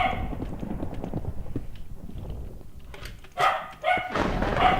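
In a video game, hooves clip-clop steadily under ambient noise, then two loud barks from a dog ring out near the end.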